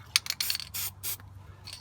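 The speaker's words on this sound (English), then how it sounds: "I'm gonna be spraying this CRC heavy duty corrosion inhibitor" CRC heavy duty corrosion inhibitor hisses from an aerosol can onto the rear brake area of a Lexus RX 300 during a pad replacement, in about six short, close bursts of spray with brief pauses between them.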